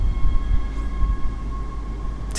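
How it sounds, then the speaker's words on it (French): A metro train in the video game Dead Space, a steady low rumble with a sustained tonal hum running throughout, fairly loud and alone. "Allez, on prend le métro."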